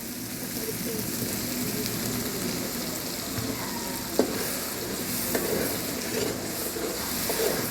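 Masala paste and tomatoes frying in a pan, a dense continuous sizzle like light rain with faint occasional stirring taps, steady and close, no speech.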